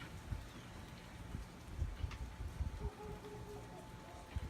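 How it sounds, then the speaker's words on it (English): Light rain falls during Hurricane Irma in Dunedin, Florida, a faint patter with scattered soft drops and low rumbles, a thin tone humming in the background. "It's raining lightly."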